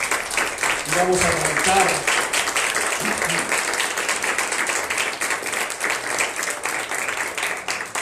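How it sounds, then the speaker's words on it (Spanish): A church congregation applauds loudly and continuously, a dense wash of clapping filling the room while a voice speaks briefly over it. "denle un aplauso fuerte al Señor"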